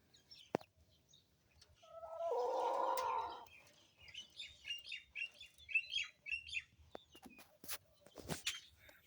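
Newly hatched chicks from a broody backyard hen peep in quick, high, overlapping chirps around a garden. A louder, rougher hen-like cluck or squawk comes first, then the chicks keep up a busy, fairly close chatter with no talking.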